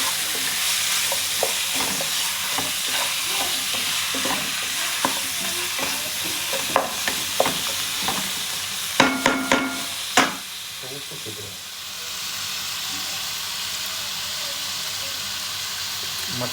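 Mutton fries with ginger, garlic and onion in a pan for mutton biryani, a steady loud sizzle with repeated scraping stirs and a few sharper clanks before the frying settles to a softer hiss.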